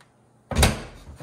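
A new washer or dryer door swings shut with a single solid thump after a moment of quiet, followed by a brief fading rattle, close and fairly loud.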